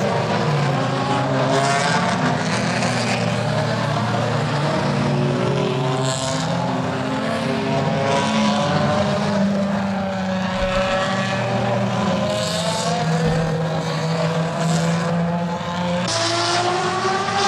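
A Ferrari runs at test speed during a brake test, its engine a continuous loud droning roar with shifting tones that holds steady throughout with no speech.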